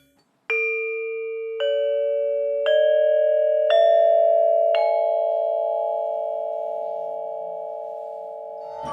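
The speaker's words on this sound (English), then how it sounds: "As you hear, they produce very long notes that fade away very slowly." Five metallic keys of a Balinese gamelan metallophone struck one after another, each ringing out with a bright bell-like tone that layers and sustains, fading very slowly into a long shimmering hum.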